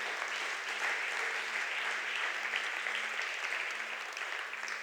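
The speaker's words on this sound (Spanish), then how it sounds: "Dale un fuerte aplauso al Señor" A church congregation claps steadily after a call to applaud the Lord, a dense, sustained wash of applause at moderate distance with a faint steady hum beneath and no voices over it.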